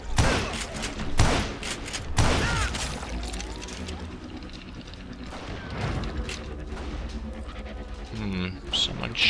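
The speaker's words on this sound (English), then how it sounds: "Someone's shooting from over there" Gunfire in the Western shooter game Call of Juarez: Gunslinger, a few sharp shots scattered among game ambience and bird sounds, with a voice talking over much of it.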